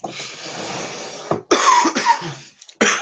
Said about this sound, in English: Coughing on the microphone.